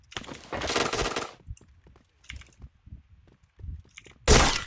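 Bursts of gunfire in a shooter video game: a dense volley at the start, scattered softer shots and movement in the middle, and a loud final burst near the end.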